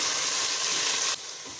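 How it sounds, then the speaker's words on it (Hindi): About half a kilo of chicken fries in a pot for Sindhi biryani, giving a loud, steady sizzling hiss close by that suddenly drops to a quieter sizzle near the end. "इसको हम फ्राई करेंगे चिकन को"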